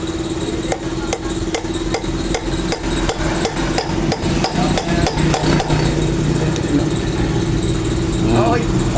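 Rapid, evenly spaced hammer blows ring on a metal wheel hub bearing for several seconds over a steady idling engine, with voices nearby.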